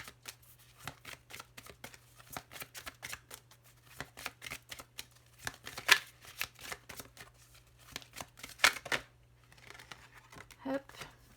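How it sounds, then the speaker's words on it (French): Oracle cards being shuffled for a tarot reading, a quick run of soft riffling flicks and taps at close range, with a quiet steady hum underneath. "venir tirer une carte conseil avec mon oracle du messager"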